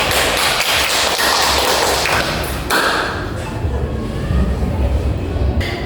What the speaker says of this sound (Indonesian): untuk refleksinya sangat bagus, kita berikan aplaus